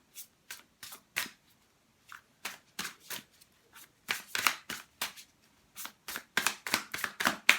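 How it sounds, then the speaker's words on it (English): Tarot deck shuffled by hand and cards drawn, a steady run of crisp riffling and snapping bursts, close and fairly loud, growing busier toward the end with no talking. "They say draw one more card, so I'm drawing one more card."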